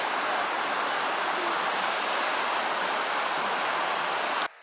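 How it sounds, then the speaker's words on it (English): A waterfall in the Alpine Lakes Wilderness along the Pacific Crest Trail in Washington gives a loud, steady, broad rushing roar close by, unbroken until it cuts off abruptly at the end. "Coming into a beautiful waterfall here."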